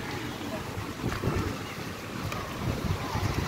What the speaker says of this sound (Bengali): এই সমুদ্রে হাওয়া বেড়ে গেছে।